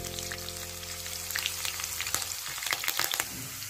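Chopped onion frying in a pan at medium heat for aloo paratha, with a steady close sizzle and crackle and scattered small pops rising toward the end.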